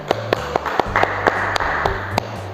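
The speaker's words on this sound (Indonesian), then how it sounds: "beri tepuk tangan dulu dong buat Donald" A round of applause for a student at a school reading club, sharp claps repeating at a steady pace for a couple of seconds over a low background hum, with no voices heard.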